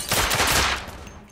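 A loud, rapid burst of gunfire in the game The Order: 1886, a dense rattling volley that fades away within about a second, no speech.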